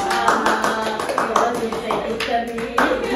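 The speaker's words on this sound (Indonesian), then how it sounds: "Tepuk tangan dulu dong" A short burst of hand clapping from a few people, with a voice talking over it.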